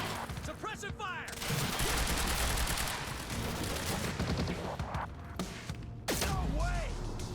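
Rapid gunfire in the shooter video game Quantum Break, loud and sustained bursts of automatic fire with short gaps, under shouted voices and game sound.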